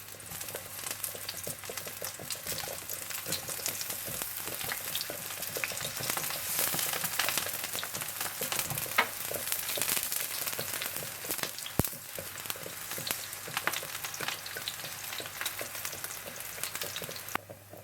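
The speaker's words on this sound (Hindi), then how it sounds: "इस तरह से आप बैंगन फ्राई कर लें" Eggplant slices frying in oil, a dense, continuous crackling sizzle with fine popping that stays steady and close throughout, with no voices.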